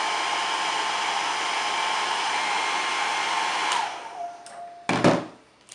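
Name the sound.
heat gun warming Jamberry nail shields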